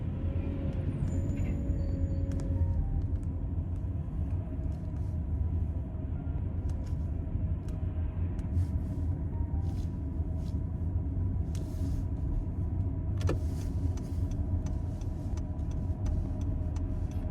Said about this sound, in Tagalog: Ayan mga school bus dito.